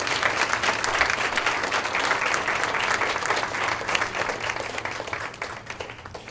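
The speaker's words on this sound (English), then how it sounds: "if we could give Christine a round of applause" Sustained applause from the audience at a county behavioral health awards luncheon greets an award recipient. A dense, steady wash of many hands clapping fills the room and tapers slightly toward the end.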